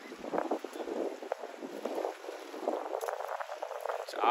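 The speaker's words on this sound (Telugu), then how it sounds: "చాలా గాలి, చాలా గాల్పు వస్తుంది" Strong, cold wind sweeps through an urban area of buildings in Qatar, producing a continuous broadband rush that buffets the microphone in uneven gusts, fairly loud and close throughout, with some faint voice-like traces beneath it.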